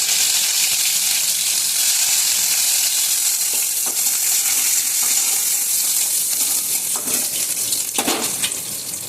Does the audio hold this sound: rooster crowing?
no